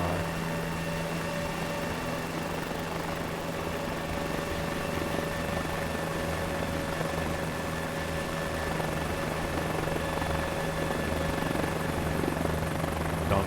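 A simulated helicopter in Microsoft Flight Simulator hovers near Mar-a-Lago, its rotor and turbine engine making a steady, unbroken drone with a constant whine, close and continuous without talk.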